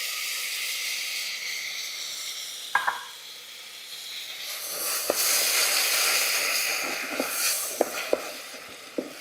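Canned tomato sauce poured into a hot pan while cooking a burrito con queso, giving a steady hissing sizzle that swells midway, with scattered clicks and clinks of utensils over it.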